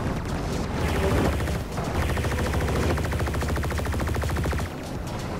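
Rapid gunfire from a weapon in the Dreams video game on PS4, a dense stream of repeated shots running through most of the stretch over continuous game music, loud and close.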